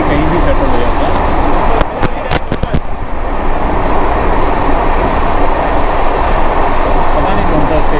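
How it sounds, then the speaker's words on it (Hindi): The Hapa Duronto Express runs at high speed, a loud continuous roar and rattle heard from inside the coach, with sharp clacks from the rails partway through. "अच्छी काफ़ी रफ्तार में चल रही है ट्रेन"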